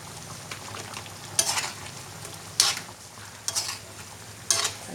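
A spatula scrapes and stirs sweet and sour chicken in a thick, drying oyster sauce in a pan, with four sharp stirring bursts over a low, steady sizzle and no talking.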